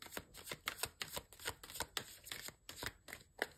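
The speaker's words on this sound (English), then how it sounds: "they told me, shuffle 4 times" Tarot cards being shuffled, a quick run of crisp riffling bursts in steady rhythm, close and quiet, with no talk.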